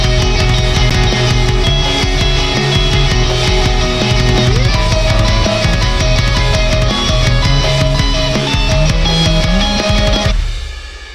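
Lead guitar lines over a dense, loud emo/trap mix with the noise gate switched off, sustained melodic notes riding above thick rhythm guitars and drums for about ten seconds before cutting off abruptly.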